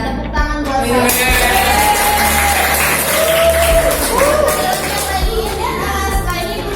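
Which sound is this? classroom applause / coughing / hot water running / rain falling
classroom applause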